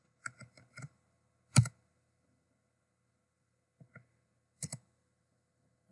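A computer keyboard is typed on in short, sparse bursts of crisp key clicks with long quiet gaps between them, close and fairly soft.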